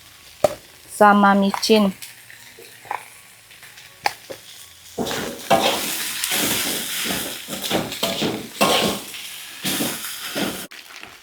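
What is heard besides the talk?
pork being cooked in a pan until dry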